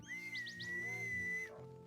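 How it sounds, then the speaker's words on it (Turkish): A single steady, high-pitched whistle tone held for over a second, with a few quick chirping blips at the start, then it cuts off. "Aa, bir düdük."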